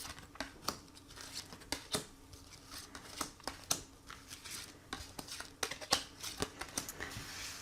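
Tarot cards are handled and drawn for a nine-card spread, with a quiet series of crisp slaps and flicks falling at irregular intervals, close and faint, and no talking.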